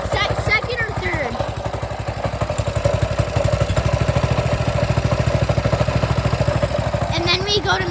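A Coleman mini bike's small engine running just after a pull start, a close, steady rhythmic putter settling into an even idle with a few metallic clatters at the start and end.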